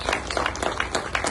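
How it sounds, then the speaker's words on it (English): An audience at a police college instructors' keynote gives director Mr. Watson a brief round of applause: dense, steady hand clapping from many people, moderately loud with no voices over it. "I want you to give him a round of applause"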